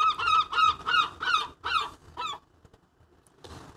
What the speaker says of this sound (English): I think the seagulls are just laughing at my mental arithmetic skills.